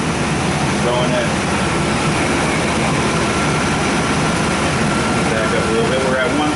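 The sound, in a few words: car A/C compressor running with engine idling while charging refrigerant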